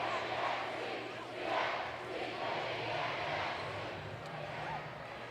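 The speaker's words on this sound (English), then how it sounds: "Caveman crowd getting into this," A high school basketball crowd of Caveman fans chants in a gym during the third quarter, a broad rhythmic roar that swells and eases in waves.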